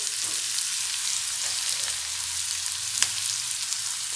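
Onion and garlic frying together in a pan for chana dal sundal, a soft continuous sizzle with light stirring clicks and one sharp tap of a utensil, no voices.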